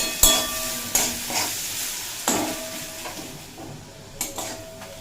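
Onions fry in a pan until soft for an egg and potato dish, a steady soft sizzle broken by a few spaced, clanking stirs of a spatula against the metal.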